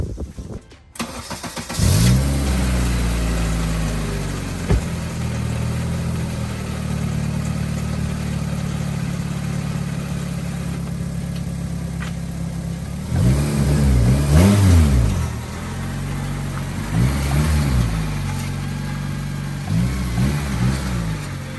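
A K24-engined Honda DC2 with a destroyed clutch cranks and catches, settles into a steady idle, then revs up loudly several times in short bursts nearby.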